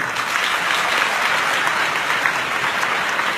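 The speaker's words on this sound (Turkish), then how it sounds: "kendinizi şöyle güçlü alkışlayın" Loud, dense applause from a crowd, continuous and even for a few seconds.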